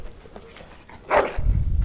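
A dog in the Dragon Age: Origins video game gives a short, fairly close whine-like vocalization, followed by low rumbling ambience.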